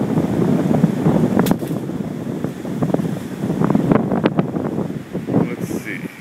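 Strong gusting wind buffets an outdoor microphone with a loud, continuous low rumble and roar that rises and falls, with occasional sharp knocks and brief voices mixed in.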